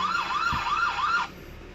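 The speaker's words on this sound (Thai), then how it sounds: "ก็คือเสียงเตือนภัยเนาะ" A V380 security camera's anti-theft alarm gives a warbling electronic siren that rises and falls in quick sweeps for about a second before cutting off, close and alone.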